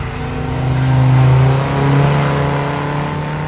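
A smooth six-cylinder Triumph 2000 engine revs up and settles, its steady hum swelling twice before easing back, close and fairly loud.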